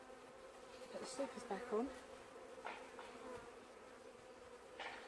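Honeybees buzz around an open hive with supers being put back on, a steady low hum behind short spoken remarks.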